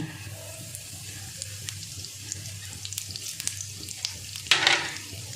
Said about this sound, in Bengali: তেল গরম হয়ে গেছে, এবার আমি কালো জিরেটা ফোড়ন দিয়ে দেবো।